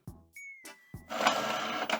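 A printer running off pages for a mixed media animation project, with a few mechanical clunks and a short whine, then a steady loud whirring feed pass, close by with no talk.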